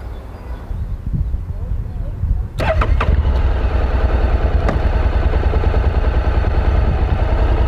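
A motorcycle engine fires up and settles into a steady, loud running drone. A voice speaks faintly early on, under the engine noise.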